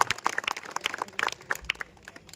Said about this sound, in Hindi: एक बार जोरदार तालियों के साथ रोहित सर का अभिनंदन करेंगे।